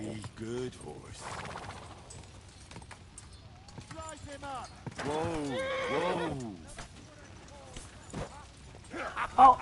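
A horse whinnies and snorts with clip-clop hooves in the video game Kingdom Come Deliverance 2, fairly close and loud, with a voice talking over parts of it.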